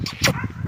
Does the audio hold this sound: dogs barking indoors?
yes